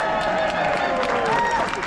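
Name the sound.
protest crowd applause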